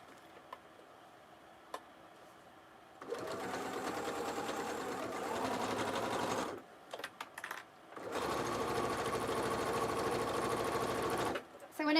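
A sewing machine stitches a fanny pack seam at normal stitch length, its rapid mechanical whir running in two long bursts split by a brief pause, close and fairly loud.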